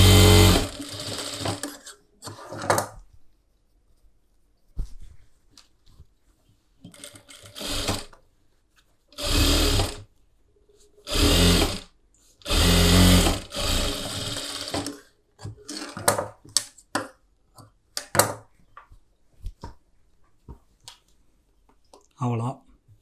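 Sewing machine running in bursts of stitching on a blouse collar, several loud stretches of steady motor whir separated by pauses with handling clicks and rustling.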